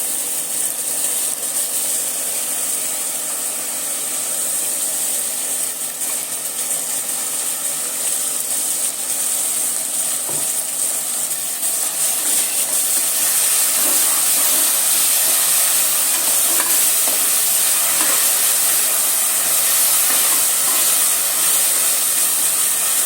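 Ground masala paste fries in hot oil with browned onions, a continuous loud sizzling hiss that holds steady throughout, close by with no talking.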